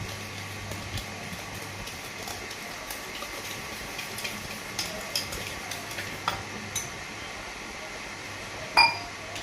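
Khaman batter being stirred in a bowl, faint repeated scraping and light clinks of the spoon against the bowl, with a louder clink near the end.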